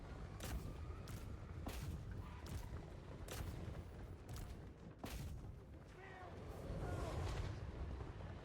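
Heavy artillery pieces fire in a Total War Warhammer III battle, loosing a string of sharp, booming shots at irregular intervals over a steady low rumble of the battlefield.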